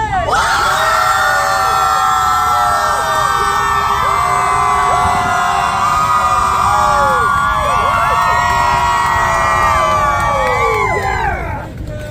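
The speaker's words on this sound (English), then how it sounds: "Everybody, big screams on a count of three." Loud concert crowd at a show in the Wells Fargo Center, Philadelphia, screaming and shrieking together in a dense, sustained roar for about twelve seconds that tapers slightly at the end.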